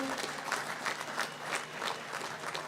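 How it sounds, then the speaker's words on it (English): Applause for awardees at an independence anniversary parade in Dominica rises outdoors as a steady wash of many hands clapping from a crowd, moderately distant, with faint voices mixed in. "Let's give a round of applause to all of our awardees this morning."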